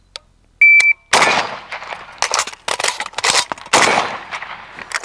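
Rifle firing 7.62 rounds in a timed drill, a beep followed by a rapid string of loud, sharp shots in quick bursts with short pauses, near and dominant.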